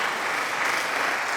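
Dense, steady applause filling the whole moment, a continuous wash of clapping at even loudness with no voices.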